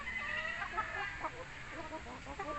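Several chickens cluck and murmur continuously close by, a busy overlapping chorus of short clucks with a faint noisy background.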